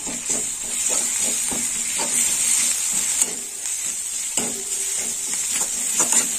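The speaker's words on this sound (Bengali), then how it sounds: "এবার একটু নেড়ে চেড়ে নেবো।" Ginger and garlic paste fries in oil in a pan for a bitter gourd curry, giving a continuous close sizzle with repeated scraping and tapping of the spoon as it is stirred, no voices.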